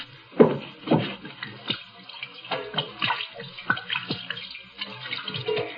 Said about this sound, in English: Hate to waste this good gin washing my hands.